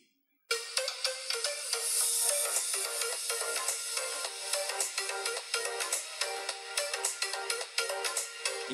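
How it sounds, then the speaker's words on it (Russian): A Xiaomi Redmi Note 7 phone speaker plays a music excerpt: tinny, treble-heavy sound with no bass, regular crisp percussive hits, and a quiet, even level after a brief silence at the start, with no voices. "и тот же отрезок на Redmi Note 7."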